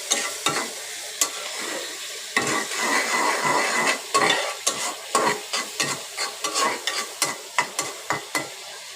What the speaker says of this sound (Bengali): চিংড়ি মাছটা ভালো করে পেঁয়াজ দিয়ে ভেজে নিচ্ছি